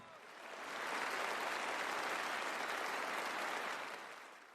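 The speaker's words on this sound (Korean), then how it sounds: "온전히 받아들이는 관중의 환호" A concert hall audience cheers and applauds for a pianist in the film Shine. A broad, even roar of clapping swells in, holds steady and then fades at the end.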